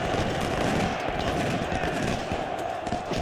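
Artillery and gunfire in the Ultimate General: Civil War strategy game, a dense continuous battle din of rumbling and crackling shots, steady and fairly loud throughout.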